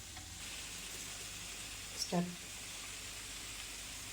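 Pirandai chutney ingredients sautéing in a pan, a faint, steady sizzle with a single brief clink of a utensil midway, quiet and even throughout.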